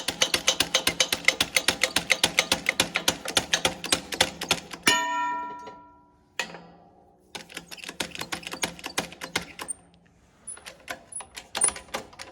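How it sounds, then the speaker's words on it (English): A press drives a bearing into a Kinze no-till coulter hub through an impact socket, giving a fast run of sharp ratcheting clicks, then a pause and a few slower, sparser clicks and knocks, close and fairly quiet. "So I just set that socket right on top of that bearing and press it right into the hub."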